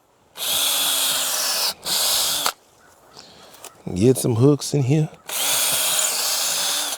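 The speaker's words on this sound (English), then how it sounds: "I'm just gonna drill a couple of holes." Power drill boring holes into a garden bed, two loud sustained bursts of whirring at the start and another at the end, with a short spoken remark between them.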